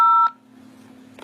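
A single loud telephone keypad tone pressed to accept an inmate call from a county jail, a short steady beep cutting off quickly into a faint line hum.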